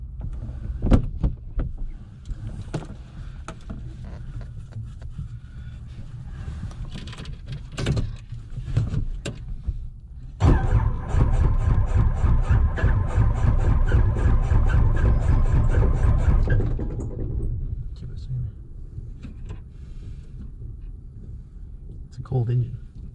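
A cold engine on a Robinson R22 helicopter cranks and then catches, rising into a loud, steady running roar for several seconds before dropping back to a lower idle, with people talking nearby throughout.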